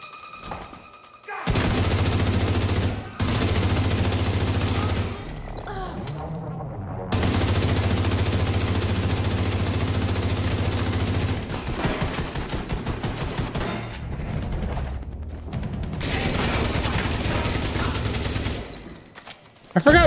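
Light machine gun fire in The Division's Battle for Brooklyn: loud, sustained automatic bursts, several seconds long and separated by short pauses, with rapid shots and impacts in between.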